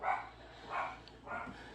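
A dog barks three times in evenly spaced bursts, faint and somewhat distant against a quiet indoor background.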